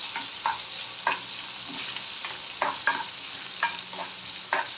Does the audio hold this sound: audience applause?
no